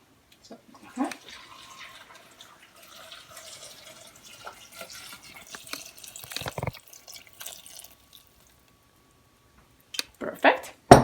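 Warm water pours and trickles into a Thermomix bowl in short splashing bursts, with a person talking throughout.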